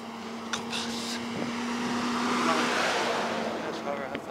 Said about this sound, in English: Here comes school bus.